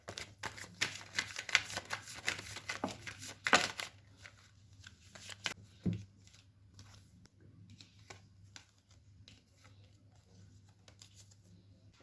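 Tarot cards being shuffled by hand: a few seconds of quick papery riffling and flicking, close and soft, followed by scattered light taps and card handling.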